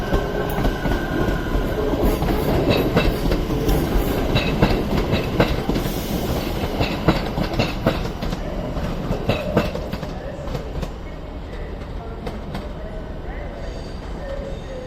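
A Northern train leaves Crewe station on the West Coast Main Line with a steady rumble and rhythmic clickety-clack of wheels over the rails, which fades slightly as it pulls away, with voices faint underneath.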